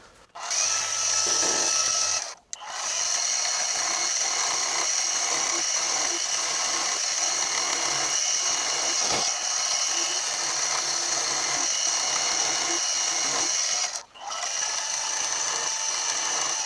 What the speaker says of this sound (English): now it's just a case of drilling a hole straight through the middle